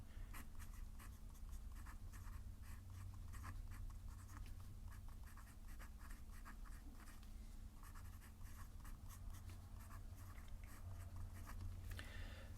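A pen scratches steadily across paper in quick, irregular strokes while a physics lesson on a satellite deploying solar panels is written out, faint and close over a low steady hum, with no one speaking.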